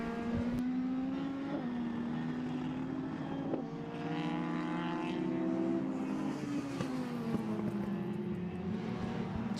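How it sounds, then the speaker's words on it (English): A Mitsubishi Evo rallycross car races at Mondello Park in the British Rallycross Championship, its engine roaring loud and close with rising and falling revs through a corner, continuous for the whole stretch. "So here is David Dempsey, the flames flying out of the Evo as he rounds the hole in the hedge"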